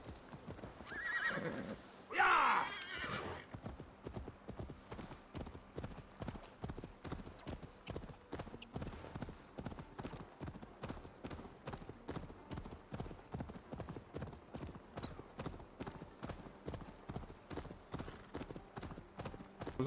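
A horse in Assassin's Creed Valhalla on the Isle of Skye whinnies loudly at the start, then gallops on with a fast, steady clip-clop of hooves that continues close and even.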